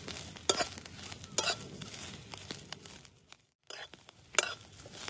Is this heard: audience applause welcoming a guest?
no